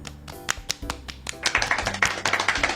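Fingertips pat rose water from the brand Teratu onto damp facial skin as makeup prep, a series of light, close, soft wet taps in an uneven rhythm that quickens toward the end.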